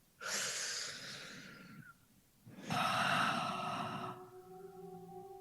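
A group of people drawing in and letting out deep breaths together, two long breathy exhales in a row with a faint tonal hum lingering after, close and fairly quiet.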